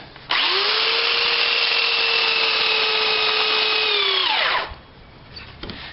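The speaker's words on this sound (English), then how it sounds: "So grind this down just a little bit." Power sander grinding down a piece of metal on a trailer stock rack, one steady loud whine of about four seconds that winds down and stops, followed by faint handling noise.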